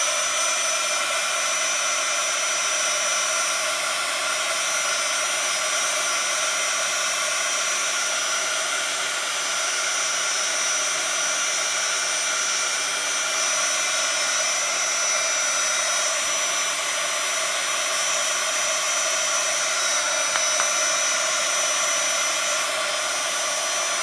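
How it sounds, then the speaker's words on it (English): A heat tool blows steadily and loudly to dry wet paint on a Brusho dragonfly card, a continuous close-up whooshing roar held without a break and with no talking. "Because this is wet, I'm going to try and dry it with a little bit of heat."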